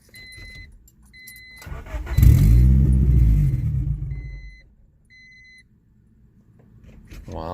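A 2019 Chevrolet Camaro SS starts up: a few electronic chimes, then the starter catches and the V8 fires with a loud burst that settles into a rumbling idle before fading, with more chimes following.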